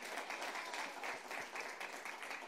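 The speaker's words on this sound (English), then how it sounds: "Come on, that deserves a round of applause." Church congregation gives a round of applause during a sermon, a steady, fairly soft wash of many hands clapping evenly throughout, heard at some distance.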